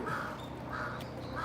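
A crow caws near a dead pigeon in a Tokyo park, giving three harsh, drawn-out calls at a steady rhythm, fairly close, over constant low outdoor background noise.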